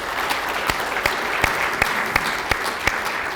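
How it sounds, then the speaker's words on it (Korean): An audience at a meeting claps steadily, a close, loud wash of applause with rhythmic individual claps standing out throughout. "큰 박수 한번 보내주시기 바랍니다."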